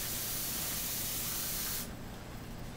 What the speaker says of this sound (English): you want to steam this until it becomes hot